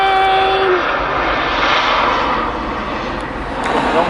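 A loud, steady airplane engine roar drones overhead, easing slightly in volume toward the end with no voices.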